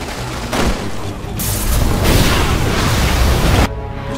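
Gas blown up by gunfire in Resident Evil 6: a loud roaring blast with crackling debris that rumbles on for about three seconds, then stops abruptly.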